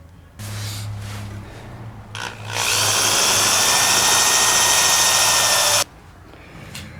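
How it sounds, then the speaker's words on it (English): A power drill bores a hole through the hollow plastic of a DIY grill insert for a Jeep Wrangler, first a brief whirring motor start, then a louder grinding bite through the material for about three seconds before stopping abruptly. "Going to drill a hole right through the plastic."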